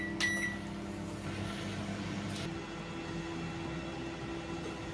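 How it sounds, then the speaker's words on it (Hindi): A Panasonic microwave oven hums steadily while heating a bowl of soybean granules in water, a constant low drone with a brief beep near the start and no talking. "और इसे बॉईल होने के लिए पैनासोनिक माइक्रोवेव अवन में"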